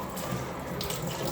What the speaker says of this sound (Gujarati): બહુ જ ગરમ પાણી આવે છે